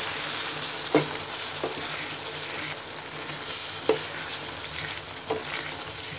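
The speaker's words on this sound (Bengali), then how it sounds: "এবার সসটাকে ভালো করে মিশিয়ে নিব" Tomato and chili sauce is stirred into a potato and pea curry in a hot pan, with a constant frying sizzle and a few soft spoon knocks against the pan.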